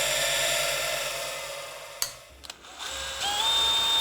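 Power drill boring 2.5mm pilot holes in a metal license plate bracket for a custom BMW R80 motorcycle, a steady close whir that stops midway, then a brief pause with small clicks before the motor spins up again.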